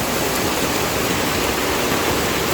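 Strong floodwater surges during heavy rain, reaching the stairs, as a dense, unbroken roar of rushing water and rain, loud and steady throughout.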